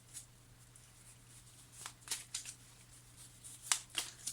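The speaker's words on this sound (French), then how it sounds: "on va juste sortir une autre carte peut-être pour compléter" Soft scattered rustles and faint papery clicks as a tarot card is drawn from the deck, quiet and close, with a few sharper snaps of card handling toward the end and a steady low hum beneath.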